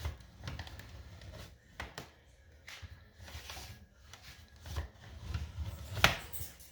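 Food sliced on a mandoline blade, giving a series of quick close swipes and clacks in an irregular rhythm, fairly faint, with no talking.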